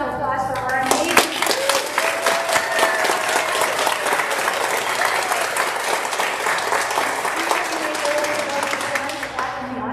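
Sustained audience applause at a promotion ceremony, dense and steady clapping from a large crowd for the whole stretch, with a few voices and cheers mixed in.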